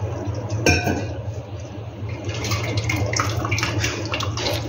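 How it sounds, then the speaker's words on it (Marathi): Cold water splashing and running over cooked Hakka noodles in a dish, with a sharp clink early on and a steady watery wash underneath, close by. "इथे मी थंड पाणी टाकून घेतले आहे"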